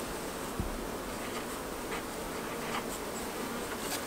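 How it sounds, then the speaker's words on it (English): A Queen marker pen squeaks and scratches in short, faint strokes across the wooden side of a beehive super, with a soft steady hum of bees and outdoor air behind it. "we're going to just write on the side using a Queen marker pen"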